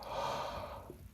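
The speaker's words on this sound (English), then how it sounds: "Pardon the yawns." A sleepy person's yawn, a long breathy exhale that swells then trails off over about a second, close and fairly soft with no talk.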